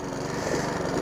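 A Sovereign lawn mower runs steadily at close range, its small engine giving a continuous buzzing drone with no speech over it.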